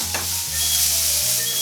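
Onion and garlic get stirred around in a hot frying pan, a steady sizzle with scraping strokes of the utensil over it and a faint tonal hum underneath, close and without talk.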